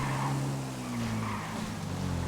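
Game car from a GTA roleplay session driving hard with a sustained engine drone and tire squeal as it skids, steady and close throughout with no talking.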